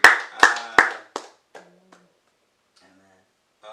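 A few loud claps in a church open the moment, quickly thinning to scattered, fading claps and then near silence.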